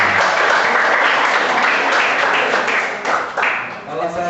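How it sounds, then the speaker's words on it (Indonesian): Classroom audience clapping for group 4 at an Islamic school session, a steady burst of applause that fades unevenly toward the end. "Tepuk tangan untuk kelompok 4."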